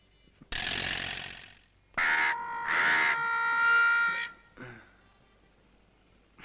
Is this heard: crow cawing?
yes